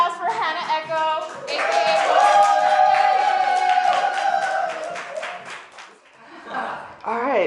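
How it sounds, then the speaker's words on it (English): Audience applause and cheers for a performer at a live reading event, with a sustained, loud burst of clapping and voices that fades toward the end. "Round of applause for Hannah Echo"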